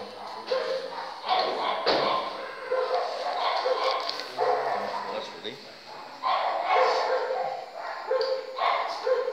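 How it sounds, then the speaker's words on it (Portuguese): Several dogs bark and yip excitedly in a burst of repeated barks, some near and loud, some whimpering, continuing throughout with people talking faintly underneath. "Nossa, cachorrada agora tão feliz."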